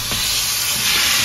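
Chicken pieces going into a hot pan of frying masala spices, a loud continuous hiss of sizzling and steam that swells slightly toward the end, close and without talk.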